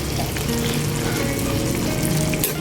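Steady sizzling and bubbling of pancit bihon with sardines and fishballs cooking in a pan, continuous and close, with no talking.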